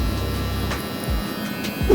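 Electric shaver buzzing steadily close to the skin while trimming a hairline, a continuous motor hum with small shifts in pitch as the head moves, no talking.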